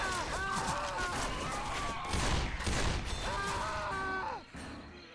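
Gunfire from Left 4 Dead 2 rattles in repeated bursts through a swamp level, with speech-like vocal fragments and game effects overlapping the shots.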